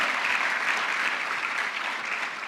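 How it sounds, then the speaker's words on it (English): Steady, full applause from the audience at a national exhibition award ceremony, a dense even wash of clapping that holds throughout and eases slightly near the end. "Please give a hand of applause to them"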